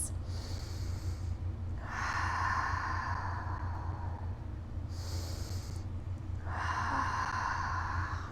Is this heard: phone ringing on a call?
no